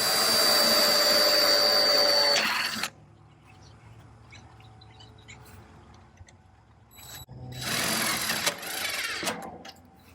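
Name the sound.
drill driving screws into barn metal trim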